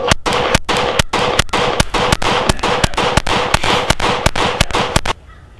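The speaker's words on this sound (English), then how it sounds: "I'm shooting as fast as I can with trigger reset." A handgun fires in a rapid string of about twenty sharp, loud reports, evenly spaced, shot as fast as the trigger resets, then stops abruptly, leaving a quiet tail.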